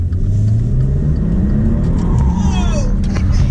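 A Maserati four-wheel-drive car accelerates hard in first gear, its engine note rising in a loud, close rumbling surge, with a passenger's voice breaking in over the roar partway through.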